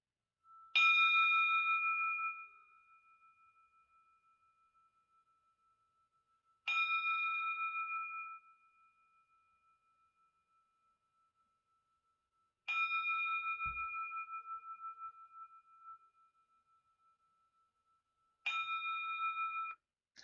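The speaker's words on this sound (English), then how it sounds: "just play the bells to you so you can hear it, what it sounds like" A clear bell tone rings four times at even intervals of about six seconds, each strike bright and close, then slowly fading into near silence before the next, paced for a breathing exercise.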